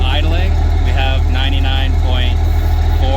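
A first-generation Cummins diesel idles through a stainless MBRP exhaust, a steady loud low rumble held close at the tailpipe, with someone talking over it throughout.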